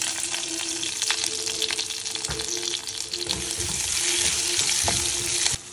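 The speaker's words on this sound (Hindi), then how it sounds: "इसके अंदर मैं डालूँगी मेरा ऑलिव ऑयल। अब इसके अंदर हम डालेंगे जीरा, नेक्स्ट इसके अंदर हम डालेंगे प्याज," Cumin seeds and chopped onion frying in olive oil in a pan, a steady close, loud sizzle with scattered crackles and occasional stirring scrapes, no voices.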